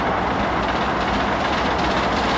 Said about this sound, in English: there's another train coming. Hello. It's an empty iron ore train.